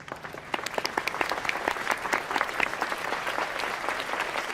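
A television studio audience applauds, a dense even wash of many hands clapping that holds steady throughout at moderate loudness.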